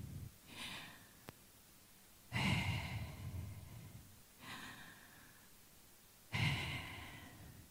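A voice imitates wind or breath exhaling, with four slow breathy whooshes at a steady pace, close and fairly soft, the second and fourth louder, and no words spoken between them.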